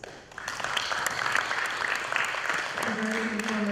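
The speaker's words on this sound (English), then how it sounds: "a round of applause to all the panelists once again" Audience at a palm oil plantation sector roundtable applauds the panelists, clapping swelling quickly after a brief quiet start and holding steady and close, with a voice speaking over it near the end.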